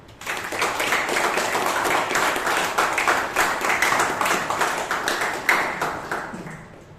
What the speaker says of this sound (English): Can we have a huge round of applause for Toastmaster Himani Pandey?